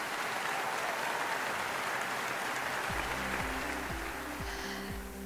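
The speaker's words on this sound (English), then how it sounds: "Let's give him a round of applause" Steady crowd applause, a dense wash of clapping from a large audience, with a low repeating tone appearing partway through.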